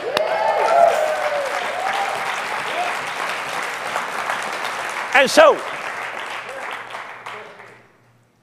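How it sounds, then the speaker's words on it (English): A church congregation gives a loud, dense round of hand clapping that holds steady and then fades away at the end. A voice speaks briefly over the clapping. "Let's give him a good hand clap."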